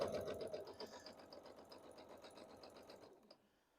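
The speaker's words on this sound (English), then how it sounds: "Then using your 1/4 inch sewing stitch, length 2," A sewing machine runs a steady, close, loud stitch using a quarter-inch seam at stitch length 2, joining quilt block pieces for a sawtooth star block. The rapid even rhythm stops near the end.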